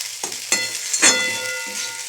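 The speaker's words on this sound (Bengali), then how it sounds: "জোর করে একটু আরেকটু ছাড়া ছাড়া ভাজা ভাজা করে দিই।" Semolina stir-fried in a pan, a close, steady dry sizzle broken by a few quick scraping strokes of the spatula across the pan, with no voices.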